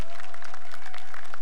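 Dense crowd applause fills a short stretch with a continuous wash of clapping, opening a talk concert at the 2019 Jeju policy fair.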